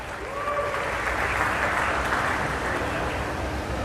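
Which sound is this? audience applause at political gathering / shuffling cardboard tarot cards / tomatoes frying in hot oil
audience applause at political gathering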